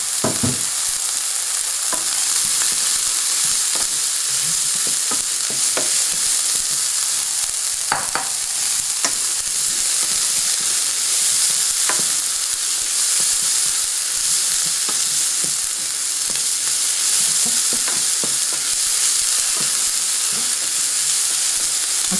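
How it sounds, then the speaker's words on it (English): Shrimp and green onion sauteing in a hot pan give a loud, dense, continuous sizzle with a steady hiss, dotted with small pops and a few scrapes of stirring, close-up and without speech. "Okay, it's just starting to saute,"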